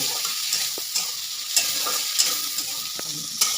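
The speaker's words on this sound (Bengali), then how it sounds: "আমার পেঁয়াজ ভাজা হয়ে গেছে।" Chopped onions fry in hot oil in a pan over high heat, giving a steady close sizzle broken by regular light scrapes and clicks of a spatula stirring them.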